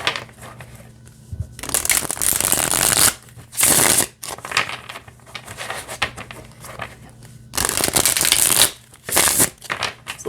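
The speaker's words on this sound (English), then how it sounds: "It's a little stiffer to shuffle because the cards are a little bit thicker." Bursts of riffling shuffles of thick, stiff tarot cards, crisp, come in several distinct rounds with quieter handling and tapping of the deck between them.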